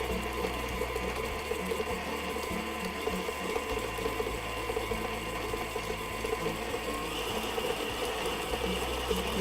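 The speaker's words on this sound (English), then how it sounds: "you just want to turn the mixer on medium-high speed, and we're going to blend that butter and that sugar and that lemon zest all together" A stand mixer with a flat beater whirs at medium-high speed, creaming butter, sugar and lemon zest for biscotti in a steady mechanical drone with a faint rhythmic churn, running on its own throughout.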